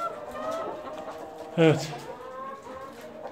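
Broody hens in a nest-box coop; one short, loud squawking cluck bursts out close by midway, with someone talking softly before and after.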